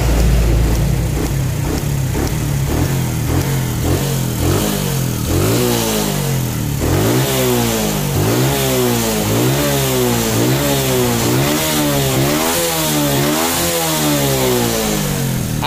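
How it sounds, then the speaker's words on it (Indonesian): A Suzuki Shogun 125 motorcycle engine, freshly back from carburetor service, is revved repeatedly and close up, with rhythmic rising and falling throttle blips over a rough mid-pitched idle, heard alone. "Antara pelintiran gas dengan akselerasi mesin itu udah balan atau seimbang, tidak terlalu delay."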